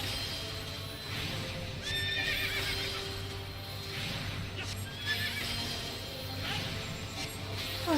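Horse in an online game whinnying twice, high shrill neighs standing out over a dense bed of game sounds and clopping, with brief impact noises mixed in.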